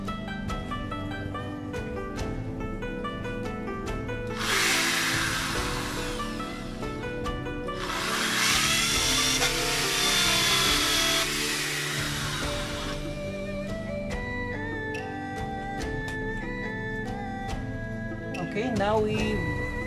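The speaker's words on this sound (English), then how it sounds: "now we've drilled a hole in this fruit basket." A power drill bores a hole through a plastic fruit basket for a DIY pond filter, in two sustained loud whirring bursts over steady background music.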